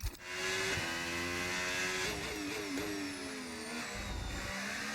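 A GP2-powered Formula 1 car in a driver career racing game whines steadily and quietly, its engine pitch climbing and dipping through gear changes with a brief rising rev near the start.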